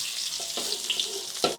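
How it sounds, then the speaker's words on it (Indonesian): Green beans are stir-fried in a wok, a close, steady hiss and sizzle of frying with a few brief stirring scrapes. "Nih lanjut tumis buncis ya."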